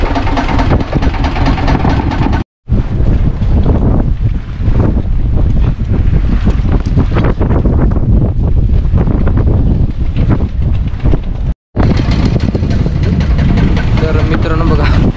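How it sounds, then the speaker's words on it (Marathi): Strong wind roaring over a rough, churning sea from a boat during a mud crab hunt, loud and buffeting the microphone continuously with brief dropouts, and a voice is heard over it. "किती बेकार वारा झालेला आहे पूर्ण कसा समुद्र खवळलेला आहे"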